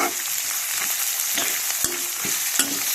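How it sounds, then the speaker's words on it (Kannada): Four to five large chopped onions hiss and sizzle in hot oil, a steady bright frying crackle with a few sharp stirring clicks and scrapes, close and without talk. "4ರಿಂದ 5 ದೊಡ್ಡ ಸೈಜ್ ಉಳ್ಳಾಗಡ್ಡಿ ಹೆಚ್ಚಿಟ್ಕೊಂಡಿದ್ದು ಅದು ಹಾಕ್ತೀನಿ"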